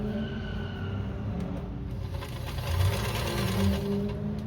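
A sewing machine runs steadily, stitching a quarter-inch seam in a vest lining; its close, even mechanical whir and rapid needle clatter continue without a break and rise slightly toward the end.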